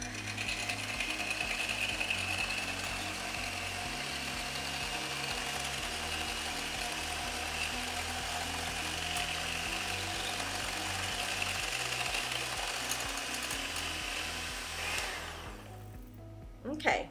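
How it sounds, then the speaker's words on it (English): An electric hand mixer whips heavy cream in a bowl toward stiff peaks, a steady close whirring motor drone with a rattling mechanical texture that runs continuously and cuts off near the end. "I'm going to mix it until it gets nice and stiff, kind of foamy peaks"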